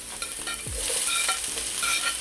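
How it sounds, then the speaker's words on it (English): Onions hit hot oil in a pot for quick red beans and rice and sizzle steadily, with brief scraping stirs and a soft crackle throughout, close and without any talk. "Now that my oil is nice and hot, I'm going to go in with my onions"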